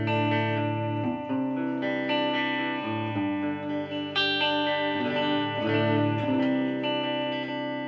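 An electric guitar plays a sequence of sustained chords and notes drenched in reverb, each ringing out smoothly into the next at a moderate level with no voices.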